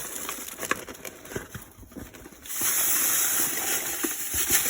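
Hot water being stirred for a pumpkin rum mash with sugar dissolving, a soft sloshing swirl that turns into a steadier, louder gushing rush halfway through, close by with no talking.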